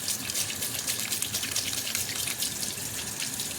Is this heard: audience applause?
no